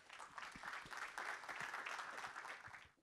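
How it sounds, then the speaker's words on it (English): Brief round of applause for panel speakers at a sustainability summit expo, a moderate crowd clapping evenly in a hall, fading out at the very end. "please give a warm welcome and applause for all the speakers here"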